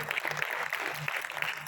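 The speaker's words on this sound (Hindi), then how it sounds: "तालियां" Classroom applause during a calligraphy lesson, a brief burst of steady clapping from a group, close and fairly loud, with a faint hum underneath.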